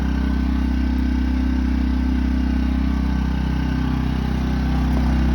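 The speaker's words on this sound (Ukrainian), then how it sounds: "Ось так генератор працює." A Hyundai HY2000SI portable generator runs steadily nearby, a loud, even engine drone with a low hum and a constant mechanical buzz that holds throughout.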